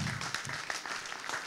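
Audience applause for a journalist at a mayoral candidates' debate in Ohrdruf, a short, faint burst of scattered clapping from a crowd in a hall.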